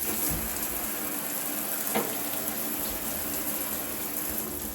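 Water sprays hard and continuously from a Moen shower at full blast, a loud, steady hiss with a faint click partway through.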